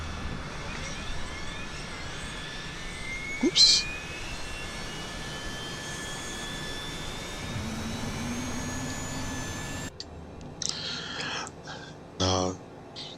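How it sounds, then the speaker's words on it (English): A simulated Cessna Citation Mustang jet in Microsoft Flight Simulator 2020 spools up its left engine with a rising whine over a steady turbine hum, interrupted by a short click and a brief remark. "Left engine is starting up."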